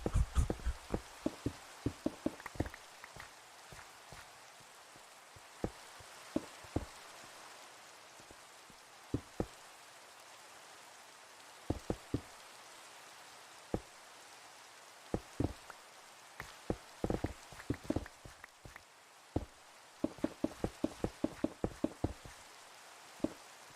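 Rain falls on a hard surface in scattered drops, with sparse taps that come in bursts over a faint steady hiss. The drops sound close and sharp against an otherwise quiet background.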